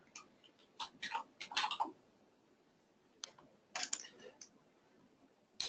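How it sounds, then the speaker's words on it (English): Typing a short word on a computer keyboard, with quick clusters of crisp clicks separated by pauses, close and fairly quiet in a calm indoor setting. "I'm going to type in just demo."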